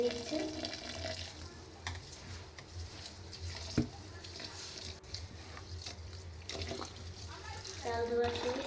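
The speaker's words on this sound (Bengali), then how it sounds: "চালটাকে ধুয়ে নিচ্ছে" Rice is rinsed by hand in a pot of water, giving close sloshing and swishing with a few clanks against the vessel, while a voice talks over it in the background.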